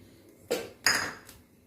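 A cooking pot set down on a gas stove in a home kitchen gives two distinct metallic clunks close by, followed by a lighter clink, with no talking.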